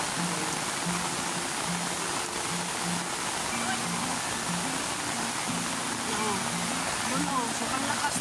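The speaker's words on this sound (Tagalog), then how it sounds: "Kasi malakas ang agos ng tubig." A strong river current rushes past in a steady, loud wash of broadband water noise, constant throughout with a low hum in the background.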